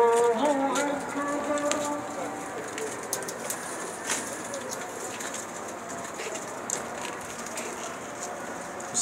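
Domestic pigeons give low, soft cooing calls in the first couple of seconds, then fade under a steady hiss of background noise with occasional faint clicks.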